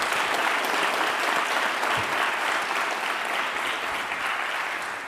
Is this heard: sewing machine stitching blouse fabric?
no